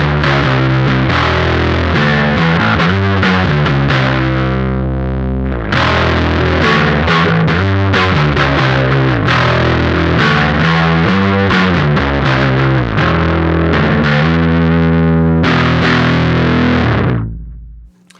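Electric guitar through an O.C.E. Lineman drive pedal set to 12 amp mode, loud crunchy overdriven chords and riffs strummed continuously, close and full, with a brief pause midway and a hard stop at the end.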